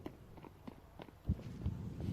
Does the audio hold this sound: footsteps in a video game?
yes